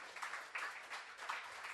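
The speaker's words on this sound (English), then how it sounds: "A big round of applause, ladies and gentlemen." An audience at a running and flexibility event applauds a guest invited onto the dais, a steady wash of clapping heard quietly and from some distance, with no speech on top.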